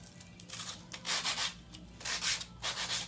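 A 100-grit nail file rasps across fingernails while shaping a pink and white ombre set, coming in close, loud bursts of scratchy strokes in a steady back-and-forth rhythm, with no talking.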